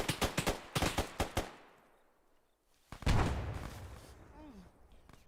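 In the Arma 3 military game, a grenade goes off with a single heavy, booming blast that rumbles away slowly. It follows a quick run of sharp rifle shots and a short lull.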